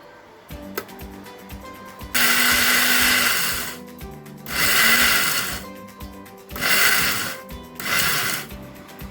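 Electric mixer grinder pulsing masala spices into a coarse powder, four loud whirring bursts of a few seconds each separated by short pauses with quieter rattling between.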